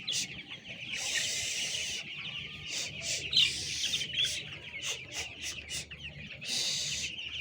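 Broiler chickens in a farm shed give repeated short clucks and chirps, moderately close, in a series of bright bursts over a low background hum.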